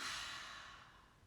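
A single deep breath pushed out through the mouth during a guided mindfulness exercise, a long soft airy exhale that starts strongest and slowly fades over about a second, close and alone.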